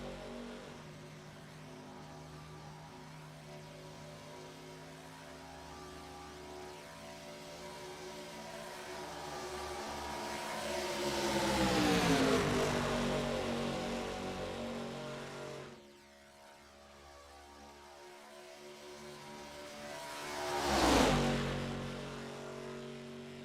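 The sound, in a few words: race cars driving past on track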